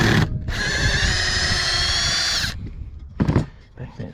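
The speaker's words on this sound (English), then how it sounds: "What I'll do is I'll take this screw out." Close power drill backing a screw out of a wooden folding garden kneeler frame, one loud sustained whine lasting about two seconds, then a few scraping handling knocks.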